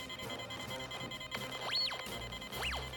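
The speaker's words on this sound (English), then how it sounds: "Look, Doug. Stop beeping." A detector in a TV comedy gives faint, high electronic beeps that sweep up and fall back, sounding twice over a low background hum.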